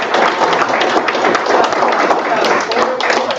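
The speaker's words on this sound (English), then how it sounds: "Let's give a round of applause for" Audience at an athletes and coaches sports summit giving a round of applause, dense continuous clapping throughout, fairly loud and close, with a few voices mixed in.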